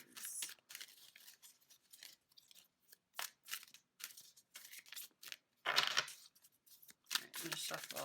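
Tarot cards being shuffled in repeated short riffling bursts of crisp papery flutter, loud and close, separated by brief pauses, with a voice speaking between bursts.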